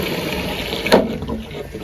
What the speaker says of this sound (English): that's filling up to test the PRVs